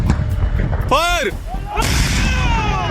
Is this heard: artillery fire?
yes